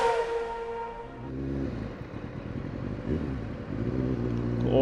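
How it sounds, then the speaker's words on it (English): A Kawasaki ZX9R motorcycle engine revs on a city road, its pitch sliding down from a high rev and then swelling again into a steady, loud, close growl. "Give your bike a rev, then put down your visor."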